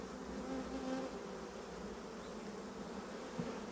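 Honeybees buzzing in an open beehive, a soft steady drone that holds at the same faint level throughout with no pauses and no voices.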